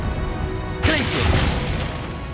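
One Glacius freezing spell in Hogwarts Legacy, a sudden bright hissing burst partway through that lingers as a frosty crackle over low game rumble and a short vocal sound.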